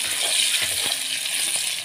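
Onion frying in a pan with a little salt, a soft continuous sizzle with faint stirring, close and steady.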